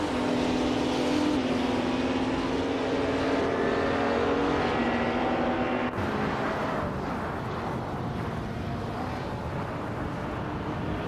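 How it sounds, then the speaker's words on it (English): Racing cars, including a Lamborghini Diablo and Ferraris, roar steadily around a track in a continuous loud engine drone, with one tone holding then dropping away around the midpoint as the mix shifts. "Meanwhile, Saltchaker 2006 in a Lamborghini Diablo Yota is hanging in 3rd but struggling to keep pace with the Ferraris."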